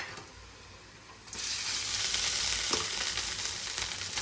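Rice goes into a hot pan with deep-fried onions for paneer fried rice, and a faint hiss jumps into a loud, steady sizzle with a brief stirring scrape, close up and with no talking.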